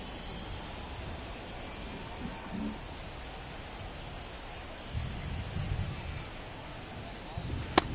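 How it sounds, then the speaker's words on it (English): Steady rain hisses over a baseball field in MLB The Show 24, a soft, continuous wash heard at a distance with faint low rumbles and a sharp tick near the end. "the field's not going to be able to hold up if the rain gets any worse than this"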